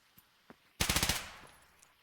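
A competitive shooter game match sounds with a rapid burst of about six close, sharp gunshots in quick rhythm, trailing into a short decay. Faint isolated clicks come before it.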